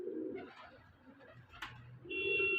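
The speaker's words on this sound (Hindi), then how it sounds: "एक लाल डब्बा कबूतर" Punjabi Malwai pigeons kept for sale coo nearby, with a low throaty coo at the start and another at the end, separated by quieter rustling and a brief sharp click.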